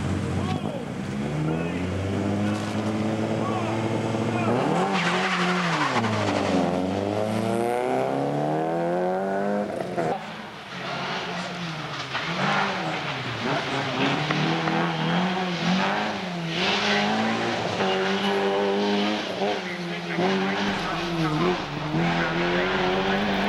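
Rally car number 67 on a 1995 CSMA Rally GB stage pulls away with a loud, revving engine climbing and falling through gear changes, close up, with a voice talking over the steady roar.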